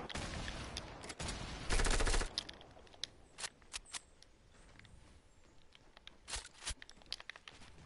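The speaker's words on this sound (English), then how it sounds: "Dude, stop, you're shooting at me." Rapid bursts of video game gunfire, a dense volley near the start followed by scattered sharp shots and short bursts at varying distances.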